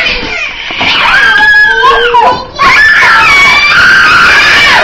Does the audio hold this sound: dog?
no